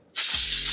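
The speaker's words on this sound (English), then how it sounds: "I'm going to start off with spraying my pans." Cooking spray hissing from an aerosol can onto cake pans, a single loud continuous burst that starts abruptly after a brief quiet moment and holds steady.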